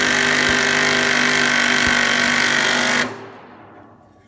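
A Makita or Ryobi impact driver drives a screw on a metal table with a loud, continuous rattling hammer for about three seconds, then cuts off abruptly into quiet.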